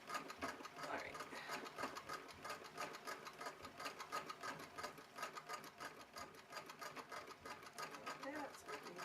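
A sewing machine stitches fabric with a rapid, steady mechanical chatter that runs nonstop, while people talk over it.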